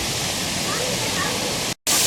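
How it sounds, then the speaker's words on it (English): Waterfall at the Canada pavilion in Epcot, a steady broadband rush of falling water that fills the scene continuously at close range, with a momentary dropout near the end before the roar resumes. "there's also like a waterfall right here"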